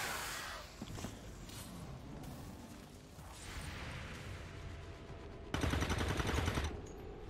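Faint gunfire from an XCOM 2 tactical battle, with overwatch shots and scattered reports under game ambience, then a louder, sustained burst near the end.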